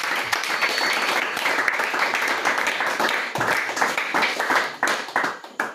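A church congregation claps together in sustained, lively applause, a dense crowd of hands heard nearby, with a few louder individual claps and a faint voice in the mix.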